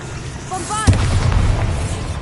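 A Bombarda spell explodes in a Harry Potter video game as a deep, heavy boom that rumbles on after a shouted incantation, loud and close.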